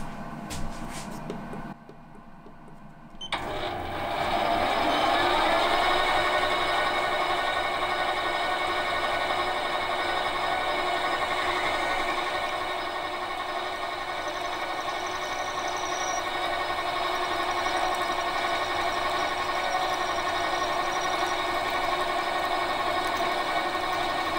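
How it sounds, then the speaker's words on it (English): A steady mechanical whine of a machine drilling a piston with a 6mm drill bit starts after a brief pause and runs continuously, loud and close, with a constant droning pitch. "now I'm going to uh, use the 6mm drill bit"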